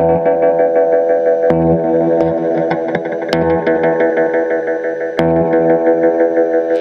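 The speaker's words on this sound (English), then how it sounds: "The repeats is how many times the echo hits back" Psychobilly-style electric guitar notes drenched in echo delay, each pluck repeating in a trail of cascading repeats that blur together, loud and continuous.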